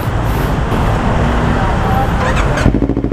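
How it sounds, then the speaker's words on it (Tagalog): A two-cylinder big bike fitted with a new aftermarket exhaust muffler rides along, giving a steady engine drone mixed with road and traffic noise throughout. "So ito yung bago nating muffler."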